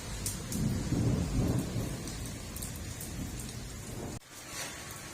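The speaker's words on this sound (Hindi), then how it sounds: "बारिश इतनी ज़बरदस्त हो रही है।" Heavy rain pours steadily in a torrential downpour, with a low rolling rumble of thunder swelling early and then fading, ending in a sudden brief drop before the rain continues, loud and close without voices.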